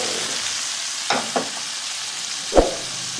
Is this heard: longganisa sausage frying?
yes